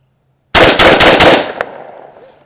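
A TriStar Viper G2 .410 shotgun fires 3-inch Remington Home Defense buckshot in four rapid, very loud blasts. A ringing echo then trails off into quiet.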